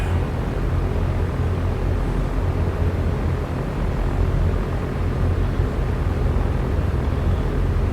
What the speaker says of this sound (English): And taxi out here to the runway.